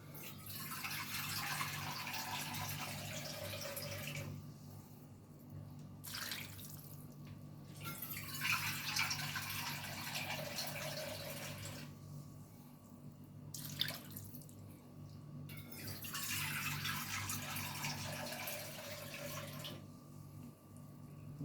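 Water poured from a bowl into a pot for a Bengali bottle gourd, potato and poppy seed dish, a steady splashing stream in three separate pours with short pauses between them, close and moderately loud, with no talking.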